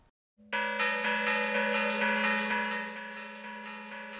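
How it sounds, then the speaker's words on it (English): Bells of historic Mission San Juan Capistrano ring out on Swallows Day, a single loud clear strike that blooms into a rich sustained tone and slowly decays, heard alone without voices. "The historic bells of the mission chime only for special occasions, and they sound several times each March 19th"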